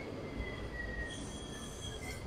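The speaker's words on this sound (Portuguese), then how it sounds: "Isto é a vista aqui. Com o elétrico a passar." Lisbon tram passing along an old city street, its wheels giving a steady, loud metallic squeal over a rolling rail rumble, with no voices.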